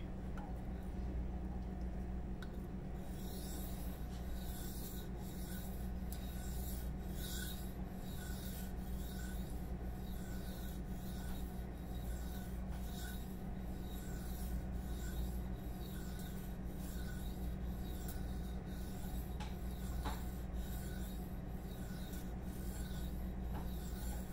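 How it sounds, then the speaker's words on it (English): A knife edge is rubbed back and forth on a sharpening stone in a steady rhythm of close, gritty strokes, a repeated scraping rasp that goes on without pause. "So now we're going to do our back and forth and apex the edge to the center."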